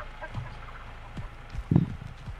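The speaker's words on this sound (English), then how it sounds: "Shut up, chicken." A chicken in the Texas Chain Saw Massacre video game clucks in short, faint bursts, with one louder cluck near the end over quiet game ambience.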